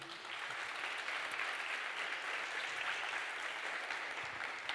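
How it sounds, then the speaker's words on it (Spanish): Steady applause from an audience at a Canary Islands animation talent event fills the whole stretch, even and sustained, heard from some distance. "Un aplauso para Herbie"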